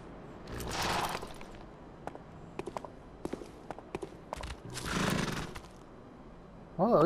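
Horses neigh and whinny in the video game Bloodborne, two loud drawn-out calls with scattered hoof clatter and thuds between them, over a low ambient game background.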